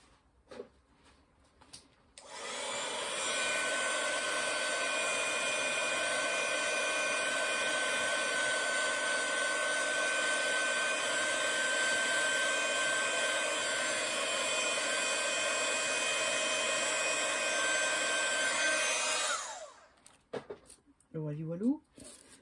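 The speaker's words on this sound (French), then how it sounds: "un petit coup de séchoir." A hair dryer blows steadily on structure paste laid on paper for a craft project, a loud continuous whoosh lasting about seventeen seconds, switching on and off abruptly with faint handling noise afterward.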